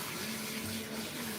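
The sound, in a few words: water running while washing a cat during grooming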